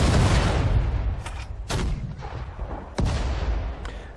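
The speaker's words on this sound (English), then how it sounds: "Fire a bunch of mortars here." Mortar fire in the World War II strategy game Sudden Strike 4 booms out in heavy rumbling blasts, with two sharp new impacts landing over continuous loud battle noise.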